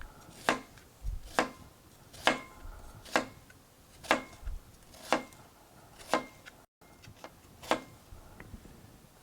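A knife slicing through an onion for a salad on a cutting board, about a dozen crisp, evenly spaced chops, close and clear with no talk over them.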